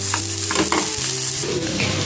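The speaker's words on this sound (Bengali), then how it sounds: "একটুখানি লালচে করেই ভাজছি।" Chicken for momo sizzles in a hot pan with steady frying crackle, punctuated by a few clattering stirs and scrapes of the utensil across the short stretch.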